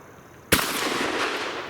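A single loud shotgun blast from a Fusion Firearms Bull Prime shotgun fired at a 12-inch steel plate, a sharp crack followed by a sustained rolling echo outdoors.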